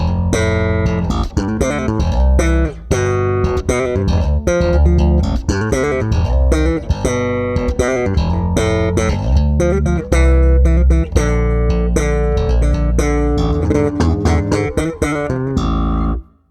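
Bass guitar played through a Laney Digbeth Foundry 200-watt combo amp set with flat EQ, a continuous busy line of punchy, crisp plucked notes with full low end, loud and close, ending in an abrupt stop.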